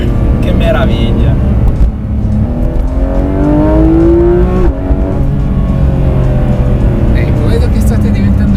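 A 2019 Porsche 991 GT3 RS naturally aspirated engine revving hard and climbing steadily in pitch, loud and continuous, with the sweep dropping briefly as it shifts then building again.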